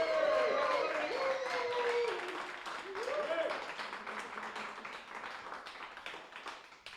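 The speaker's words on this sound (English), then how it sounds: "I just want to give a big round of applause for everybody here" A party crowd at a freeCodeCamp contributors gathering in Dublin gives a round of applause. The clapping and cheering are strongest at the start and then taper off, with voices mixed in.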